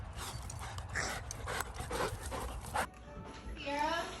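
Muddy dogs indoors panting and snuffling close by, with a brief whimper-like sound toward the end, under ongoing household background noise and a voice.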